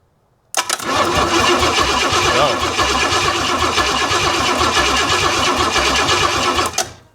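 An old Pontiac Trans Am engine left sitting in the woods, with fuel squeezed into it, cranks loud and close with a steady rhythmic churn for about six seconds and does not catch.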